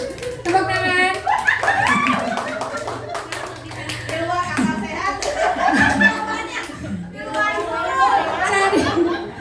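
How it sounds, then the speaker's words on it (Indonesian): A small group of teachers at a school training session claps in sharp bursts, with distinct individual hand slaps close by, mixed with chatter, laughter and overlapping talk throughout. "Tepuk tangan."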